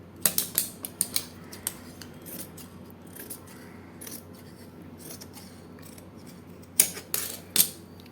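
Scissors cut through a cloth handkerchief in a series of sharp, crisp snips, clustered at the start and again near the end, close and fairly quiet with no talk.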